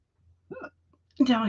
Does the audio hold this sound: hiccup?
yes